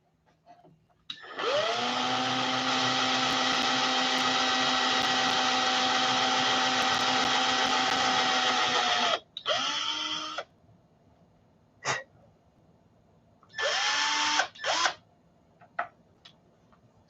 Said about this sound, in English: Make a mark, drill a hole.